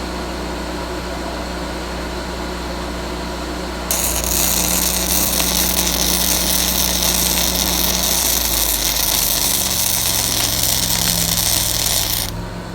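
A Miller Trailblazer 325 EFI engine-driven welder idles low, then abruptly revs up to high speed when the wire-feed trigger is squeezed, holding a loud steady roar before dropping back down near the end.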